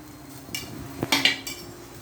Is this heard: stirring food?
yes